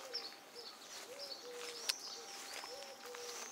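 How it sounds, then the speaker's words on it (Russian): A turtle dove coos outdoors near fir trees, soft repeated rolling notes at a moderate distance, with other faint bird calls and a quiet background. "Слышите, гулюшка поет,"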